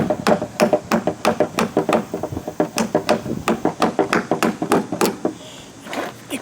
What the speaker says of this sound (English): Why don't you just hammer the nail in?